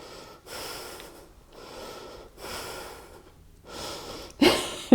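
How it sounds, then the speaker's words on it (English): Heavy, labored breathing during a Pilates Reformer jumpboard and Tabata workout, several rhythmic breaths with pauses between, close and fairly quiet, ending in two sharper, louder exhales. "I'm sure you can hear my breathing getting harder and harder."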